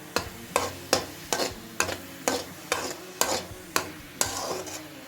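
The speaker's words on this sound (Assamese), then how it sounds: "আমি এইখিনি এনেদৰে কিছু সময় ভাজি থাকিব লাগিব।" Grated coconut, still moist and soft, frying in a pan while a spoon stirs it in about eleven regular scraping strokes over a low sizzle, alone with no voices.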